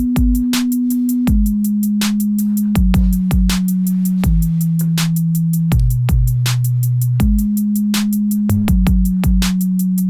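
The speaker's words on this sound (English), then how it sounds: "And so we're going to want to play just the root notes of the chords," A sustained sine wave bass line plays the root notes of the chords for a pop arrangement, long smooth low notes changing every second or so under crisp percussive clicks, with nobody talking.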